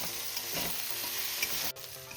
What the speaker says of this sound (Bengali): এই মুড়ি ঘন্টটা এবার আমি ভালো করে মশলার সাথে কষিয়েও নেবো